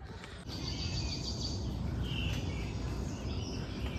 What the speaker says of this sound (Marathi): पहा, तुम्हाला ऐकायला येतात पक्ष्यांचे आवाज.